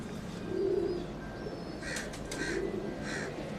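Soft, low pigeon coos, two rounded calls about two seconds apart, against a faint hiss of background noise with a few brief higher chirps.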